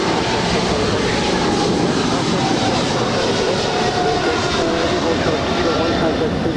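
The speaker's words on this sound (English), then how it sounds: "China Airlines cargo 5137 off to Taipei." A China Airlines cargo jet departs LAX, its engines a loud, close, continuous broadband roar that stays level throughout with no break.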